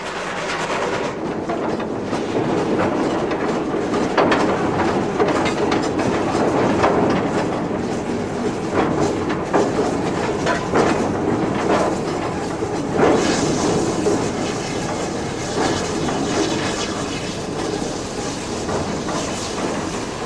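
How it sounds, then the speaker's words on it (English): GWR steam locomotive City of Truro running on a British main line, a loud, sustained rumble of the train passing with rhythmic clatter of wheels over rail joints and a steady hiss. "City of Truro is naturally owned by the National Railway Museum York and is permitted to run on British Rail's main lines as seen here."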